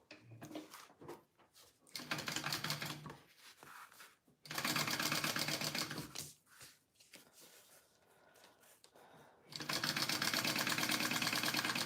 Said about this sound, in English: fold down her edge and top stitch and add it to her bag